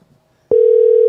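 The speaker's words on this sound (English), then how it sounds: "Y'all can hear the ringer." After a brief silence, a steady phone ringback tone starts abruptly and holds loud and constant.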